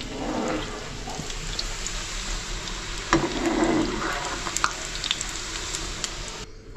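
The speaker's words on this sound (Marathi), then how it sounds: "आता एवढे मी तळून घेतले ना" Homemade snacks fry in hot oil in a pan over a medium gas flame, a steady close sizzle with bubbling pops and occasional louder crackles, no talk.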